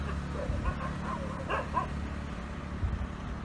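A dog barks outdoors in India during the coronavirus lockdown, with nilgai nearby. A few short yips and barks come at middle distance over a steady background rumble.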